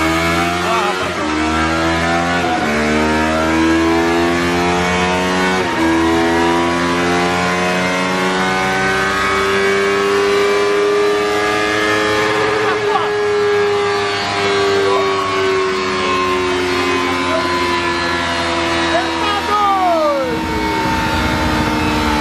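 A Yamaha MT-03 motorcycle engine during a remap power test, loud and close, climbing through long rising revs and drops, with one final high sweep before it cuts back to idle.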